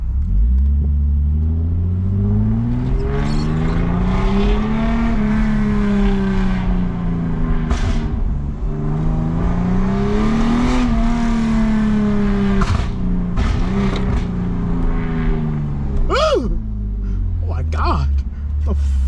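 A Lexus IS250 with an M-Force tune, heard from inside, its engine and exhaust rising and falling through several loud revs and accelerations in sport mode, with people talking over the drone.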